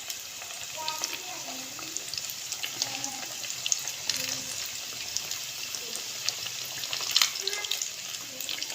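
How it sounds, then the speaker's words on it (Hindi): Samosas deep-fry in hot oil with a soft, steady bubbling hiss and faint occasional clatter, fairly quiet throughout. "ऑयल हमारा गर्म हो गया, इसके अंदर हमने समोसे डालने शुरू कर दिए हैं।"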